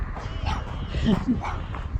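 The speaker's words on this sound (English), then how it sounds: "Oh, ferocious puppy" A puppy at a road crossing near Del Norte, Colorado gives a couple of short, high yips and barks close by, mixed in with people talking.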